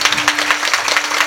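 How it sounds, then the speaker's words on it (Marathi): An audience claps hands together at a Marathi devotional kirtan gathering, a dense, steady patter of many hands sustained throughout without a break. "वाजवा, टाळ्या वाजवा"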